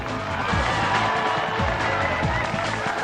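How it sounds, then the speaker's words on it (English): Studio crowd cheering and shouting at a robot combat competition, a dense continuous roar of voices with excited commentary talking over it throughout. "The crowd is going crazy!"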